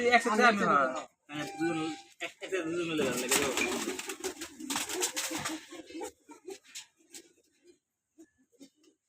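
Pigeons coo in a home loft on a day they are being vaccinated. Soft, repeated throaty coos sound close by, under and between people talking, then fade to sparse coos near the end.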